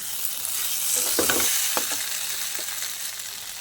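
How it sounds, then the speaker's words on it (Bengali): A spoon stirs spice masala with a spoonful of sugar in a pan for jackfruit kofta curry, giving a soft continuous sizzle broken by a few scraping strokes near the middle, with no talking. "দিয়ে আবারও ভালো করে নেড়ে চেড়ে জল দিয়ে দেবো।"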